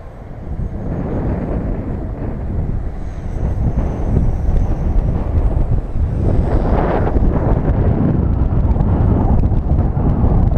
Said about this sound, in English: Yeah, that's a lot of wind.